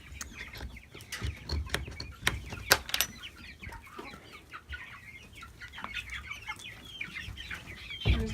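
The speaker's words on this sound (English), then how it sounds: "Then I've got tons of little birds in here." Chickens clucking inside a homestead coop, with a steady stream of overlapping clucks and chatter, some louder calls near the start, and no voices.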